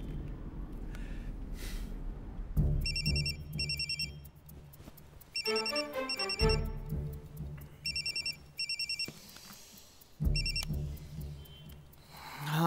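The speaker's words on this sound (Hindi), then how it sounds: "चतुर का फोन था" A telephone rings in repeated bursts of trilling electronic tones, heard close over a low rumbling car interior, with a short melodic ringtone passage in the middle.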